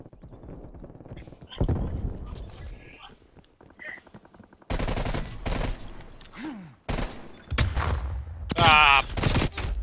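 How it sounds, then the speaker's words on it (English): Rapid bursts of nail gun fire in Call of Duty Cold War, loud sharp volleys in several clusters with gaps between them, mixed with other game effects and brief voices. "How do I use this nail gun?"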